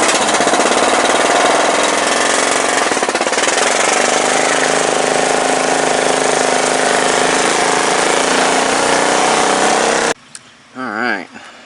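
A Troy-Bilt Pony riding lawn tractor with a 42-inch mowing deck runs its engine loud and close for about ten seconds as a steady, rough mechanical roar, then cuts off, leaving a few quieter, brief sounds.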